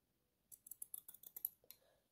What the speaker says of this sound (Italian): prendo le mie forbici e taglio